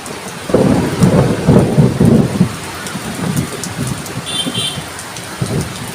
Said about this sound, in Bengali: মুসল ধারে বৃষ্টি নেমে গেছে